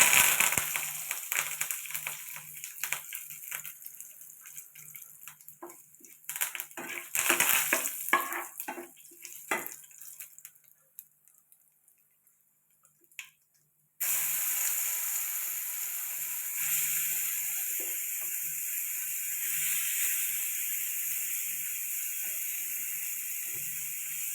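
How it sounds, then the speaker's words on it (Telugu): Curry leaves and spices crackle and sizzle in hot oil for a chutney tempering, a loud busy frying hiss with stirring clatter, a brief quiet gap, then a steadier, even sizzle. "తాలింపేస్తాను దీంట్లో"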